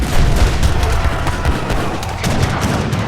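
Massed musket volleys from a battle in Age of Empires III, ragged crackling gunfire bursts with deep booms from cannons, loud and continuous with no talk.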